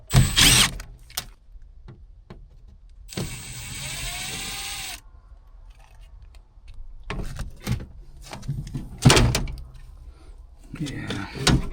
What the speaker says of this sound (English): I'm gonna pop this door off and I'm gonna put it right in the coil.